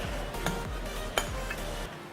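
Garlic fettuccine being stirred into sambal balado in a pan, with soft scraping and a couple of clinks from utensil against the pan, a steady low sizzle beneath and no talk.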